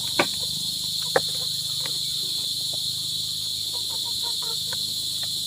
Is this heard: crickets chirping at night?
yes